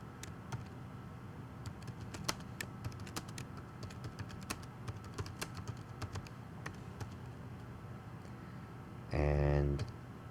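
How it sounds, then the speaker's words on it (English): Rapid typing on a computer keyboard, a dense stream of sharp key clicks close to the microphone, with a brief low hum near the end. "I can detect that I'm typing faster than it's echoing to the screen"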